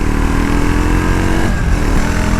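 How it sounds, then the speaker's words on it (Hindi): A Triumph Tracker 400 motorcycle engine rumbles steadily with a deep, throbbing two-barrel exhaust note, loud and close, with a slight dip midway before the drone resumes. "मतलब 2 बैरल एग्जॉस्ट नोट आपको सुनाई देता है जब आप उसको चलाते हो"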